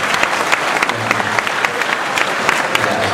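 An audience at an Islamic boarding school anniversary and graduation ceremony applauds to welcome Cak Nun, loud, dense crowd clapping that runs steadily throughout with a faint murmur of voices beneath.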